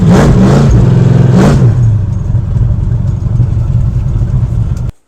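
1968 Ford Thunderbird engine revving loudly up close, with two sharp throttle blips followed by a rough, steady idle that cuts off abruptly.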